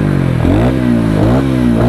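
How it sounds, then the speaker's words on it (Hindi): A 2022 TVS Ronin motorcycle exhausts with a heavy, deep note. The engine is close and loud, blipped up and down in pitch a few times while revving at rest. "एंड एग्जॉस्ट नोट सुनो,"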